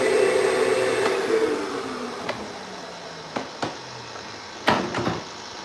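A shop vac whines loudly and then winds down in a falling pitch as it switches off. Faint room noise and a few sharp knocks follow.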